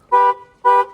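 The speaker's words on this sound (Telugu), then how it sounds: "హారన్ కూడా చూసుకోర్రి." A car horn gives two short, loud, evenly spaced toots, close and alone.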